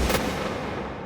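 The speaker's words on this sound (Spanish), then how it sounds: "escucharon el otro disparo" A single loud gunshot cracks at the start and its blast rolls on through a sustained low, reverberant rumble, no voices present.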